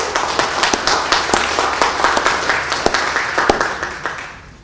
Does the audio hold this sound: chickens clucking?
no